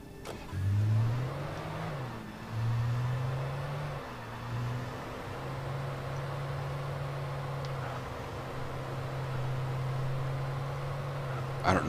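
A car engine in Alan Wake revs and shifts as the car drives along a road: a mid-pitched hum rises and falls in a few surges, then settles into a steady cruise, with a faint voice underneath.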